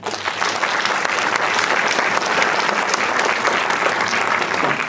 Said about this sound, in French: ça mérite déjà des applaudissements